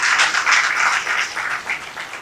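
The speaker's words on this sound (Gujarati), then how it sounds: "એ કથેરિયાને જોરદાર તાળીથી વધાવી" Sustained applause from an assembled audience welcoming a guest at a community event hall, steady and fairly loud throughout, with no clear voices above it.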